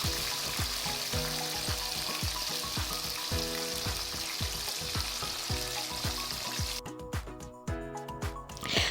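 Frozen fish seasoned with ginger-garlic paste and turmeric fries in a pan, giving a continuous loud sizzle with a regular rhythmic clatter of the pan or spatula throughout, and no talking.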